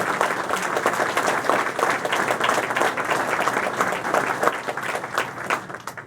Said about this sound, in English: Let us show our support by giving them a round of applause.